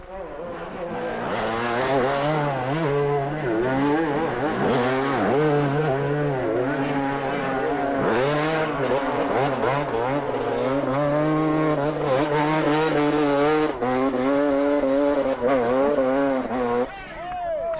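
A modest 125cc motorcycle races up a hill climb in the 1999 GLC, its engine screaming loud and near with rising and falling pitch through repeated gear changes, while a commentator talks over it throughout.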